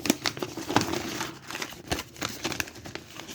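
A sheet of printed paper is folded by hand, giving irregular crinkles and sharp crisp rustles at close range, some louder creases standing out from softer handling.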